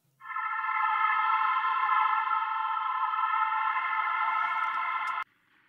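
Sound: Cousteau's organ synth from Analog Lab playing higher notes

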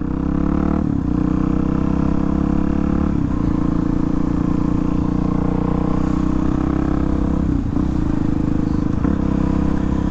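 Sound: race car engine, driver upshifting

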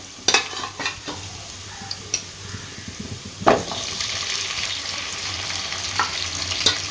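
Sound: boiled beef stirred and frying in oil

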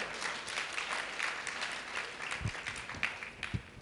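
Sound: audience applause

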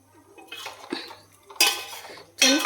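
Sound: stirring beef curry with masala in a pot

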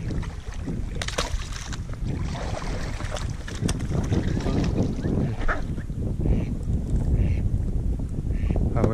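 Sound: ducks quacking

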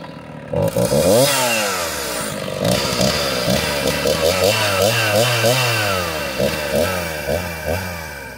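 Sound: chainsaw running

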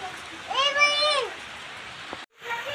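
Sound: rain falling on the courtyard

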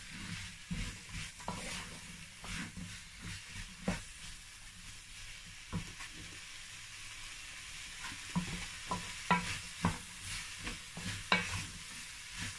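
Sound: vegetables frying and being stirred in a pan

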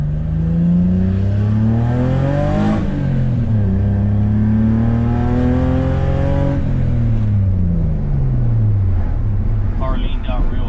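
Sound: BMW E46 car engine revving

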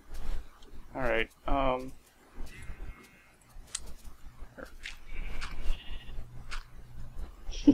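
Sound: sheep bleating in the video game Minecraft

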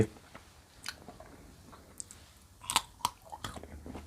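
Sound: crunchy chewing of borapet, a Thai herb

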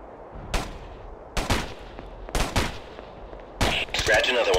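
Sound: gunfire in Ghost Recon video game

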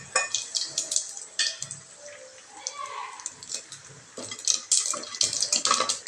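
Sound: tempering seeds sizzling in hot oil

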